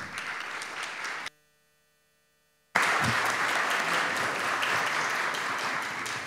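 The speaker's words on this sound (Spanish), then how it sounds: "El aplauso para él." Audience at an inclusive-business awards ceremony applauds the mayor of Miraflores, steady crowd clapping that cuts out into near silence with a low hum, then returns louder and sustained.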